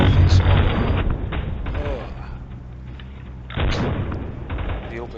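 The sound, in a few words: cannon fire in video game M.A.V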